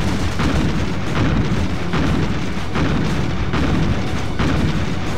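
Heavy gunfire and explosions from the naval combat video game Pacific Gunner form a dense, loud, continuous roar with repeated booming bursts. No speech is heard.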